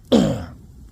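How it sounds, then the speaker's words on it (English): A single short, harsh cough, close and alone, during solo winter camping in the woods, trailing off into quiet. "I'm sorry for all the coughing through this, guys, but it's sort of hard for me to breathe"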